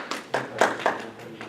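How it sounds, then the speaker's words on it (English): A few people clap at a flag football officials' training session, a sparse, slightly uneven run of about six claps, moderately loud and close. "You're allowed to clap."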